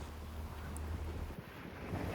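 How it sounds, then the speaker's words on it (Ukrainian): Strong wind roars and buffets steadily across the microphone at Cabo da Roca, an Atlantic cape in Portugal, a low continuous rumble with faint surf beneath, no voices. "Тут завжди дме дуже сильний вітер."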